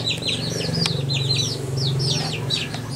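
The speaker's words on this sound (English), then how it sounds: "Two little baby ducks." Two baby ducks give a steady run of high, thin peeps close by, repeated rapidly over a constant low hum.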